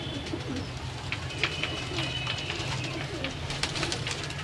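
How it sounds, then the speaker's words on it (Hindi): Salare Teddy pigeons coo in low, repeated rolling calls, with some bird sounds close by and others farther off in a continuous murmur. "ये जी सलारे टैडी कबूतर"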